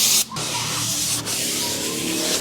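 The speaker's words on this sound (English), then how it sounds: "we're just gonna hit that with some brake cleaner before we put it on" Brake cleaner spraying onto a new front brake rotor for a 2021 Kia Telluride, a loud continuous close hiss that breaks off briefly twice.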